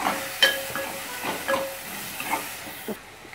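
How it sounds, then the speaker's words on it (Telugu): Tempering for Bombay chutney sizzles in a pan with a soft, steady hiss and light crackles, broken by a few stirring clinks close by, with no voices. "ఈ విధంగా తాలింపు వేసేసుకోవాలి"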